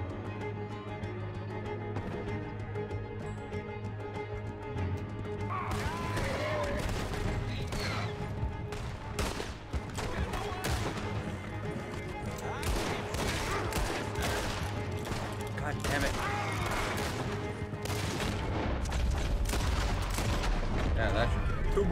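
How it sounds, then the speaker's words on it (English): Sustained gunfire from a Red Dead Redemption 2 shootout, rapid overlapping rifle and pistol shots crackling steadily over a low droning backdrop, with some voices in the mix. "That was some good shooting"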